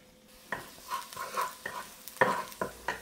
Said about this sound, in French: On va commencer en mettant un petit fond d'huile dans notre wok. Là, je vais mettre la température dans les alentours de 225-250 et on va commencer par faire cuire l'ail.